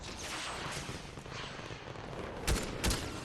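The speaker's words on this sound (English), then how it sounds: "I actually really love the Ranger assault rifle." Ranger assault rifle fire in Fortnite, with faint, distant-sounding shots under a steady noisy background and two sharper cracks standing out near the end.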